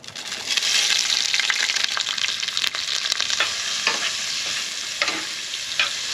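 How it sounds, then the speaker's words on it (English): Food sautéing in a pan with Everglades seasoning, a steady close sizzle with occasional stirring scrapes and clicks, no voices. "We're just gonna cook them down a little bit, saute them up real good."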